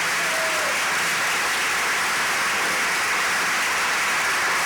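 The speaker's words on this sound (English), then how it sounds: "Let's give our president a round of applause." An audience applauds a long-serving president at an event, a dense, even wash of clapping that holds steady from start to finish.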